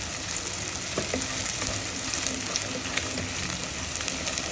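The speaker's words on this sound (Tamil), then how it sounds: "இது நல்லா பொறிஞ்சு வரட்ட மக்களே" Mutton rib bones frying in oil for a Sunday curry give off a steady, dense sizzle and crackle with a few sharper pops, close and continuous throughout with no talking.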